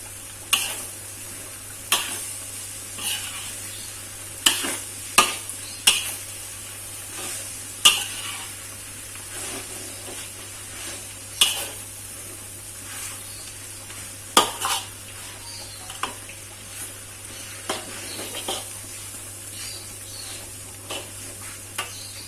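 Celery, onion and lemongrass stirred in a frying pan for a Minang home-cooked dish, a steady low sizzle broken by repeated sharp clinks and scrapes of a utensil against the pan, close by with no talking.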